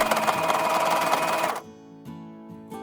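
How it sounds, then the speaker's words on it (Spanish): A sewing machine stitches a zigzag seam joining two overlapping fabric edges for a cloth pouch, running loudly for about a second and a half, then stopping, followed by a couple of brief quieter motor bursts. "Pasamos una costura en zigzag para unir estos dos bordes."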